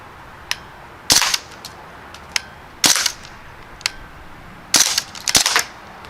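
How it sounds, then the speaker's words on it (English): A Crosman Panther Arms DPMS BB rifle fires in quick bursts of sharp cracks, with clusters of shots separated by short pauses and a few lighter single clicks between them, outdoors and without talk. "I think it's shooting again in bursts."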